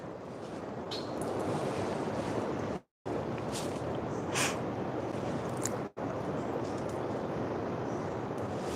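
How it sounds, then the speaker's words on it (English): Ocean surf rolling in at night on the Oregon coast, a steady broadband wash of waves heard from a campsite, continuous and fairly loud with wind noise mixed in and a couple of brief dropouts. "You can hear the ocean."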